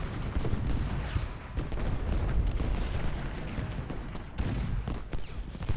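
Artillery and musket volleys in Ultimate General: Gettysburg, a dense continuous rumble of booms and crackling shots layered over one another at mid distance.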